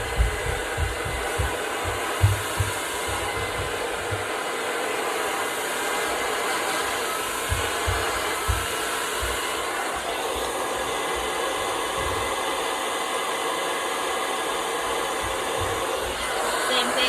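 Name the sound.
hair dryer blowing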